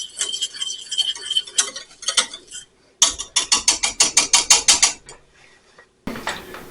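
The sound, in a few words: whisking a condiment in a bowl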